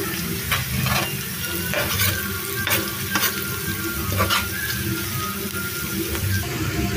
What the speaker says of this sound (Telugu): ఉల్లిపాయ ముక్కలు కొద్దిగా ఫ్రై అయ్యాయండి. ఇప్పుడు దీంట్లో పసుపు వేస్తున్నాను.